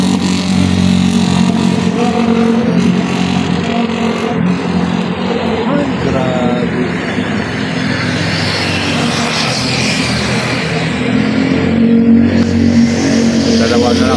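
A motorcycle engine runs loud and close in a continuous droning rumble that swells slightly, while a person speaks briefly over it.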